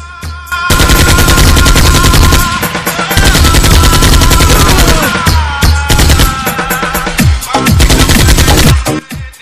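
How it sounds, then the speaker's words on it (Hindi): Rapid automatic gunfire crackles nearly nonstop in a Hindi war film battle scene, loud and dense with overlapping bursts and music-like tones beneath, dropping out briefly near the end. "तुम लोग जाओ, हमारी फिकर मत करो, गोली चलाते रहो।"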